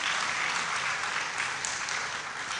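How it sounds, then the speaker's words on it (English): An audience applauds a speaker at a university inaugural lecture, a fairly soft, even wash of clapping that carries on throughout without talk. "Another round of applause for our speaker."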